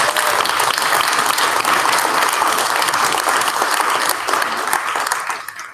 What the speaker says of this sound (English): So can you please give a big round of applause?